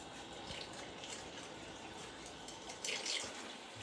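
Water runs gently into the pressure tank of an earthship water filter, a faint, steady trickle and hiss with a slightly louder gush near the end.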